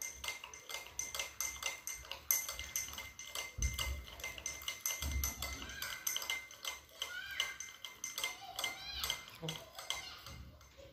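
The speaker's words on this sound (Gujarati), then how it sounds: "ખાંડ નાખો. હવે ચમચીની મદદથી હલાવો." A metal spoon stirs sugar into a glass of water, giving repeated light clinks and scraping against the glass at close range, with a voice speaking over it.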